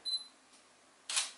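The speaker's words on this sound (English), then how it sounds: "it was just a slow shutter, but the beep is the point where it found its focus" Sony A6000 mirrorless camera with an E-mount lens: a short electronic focus-confirmation beep, then a brief pause and a single soft shutter release, close and quiet with no talking.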